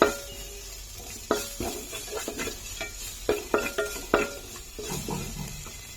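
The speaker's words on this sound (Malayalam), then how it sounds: "ഇനി നമുക്ക് ഈ ജിഞ്ചർ ഗാർലിക് പച്ചമുളക് ജസ്റ്റ് ഒന്ന് സോട്ട് ചെയ്യാം" Ginger, garlic and green chili sautéing in a pan with onion, steady soft sizzle under repeated scraping and clinking of a stirring utensil against the pan, close and moderately loud.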